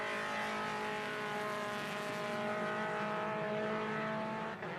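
Mazda MX-5 Cup race cars cruise slowly behind the safety car at VIR, engines droning in a steady, sustained hum at moderate distance without sharp revving.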